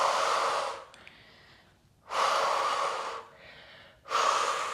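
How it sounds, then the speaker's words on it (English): Slow deliberate breaths during a Pilates workout: a long whooshing inhale through the nose, a pause, then an airy exhale through the mouth, repeating in an even cycle, close and clear. "Breathing in through the nose and out through the mouth."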